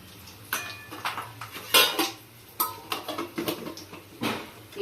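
Mustard seeds and urad dal roasting in a pan for tempering, heard as a run of light metallic clinks and scrapes of a utensil against the pan, close and intermittent, with no talking.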